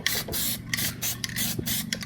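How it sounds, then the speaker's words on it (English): Bursts of spray paint hiss close by as an old lawnmower motor is fogged black. Short, loud sprays repeat in an uneven rhythm over a low background hum. "So I'm going to go through and quick fog this in, the motor to black"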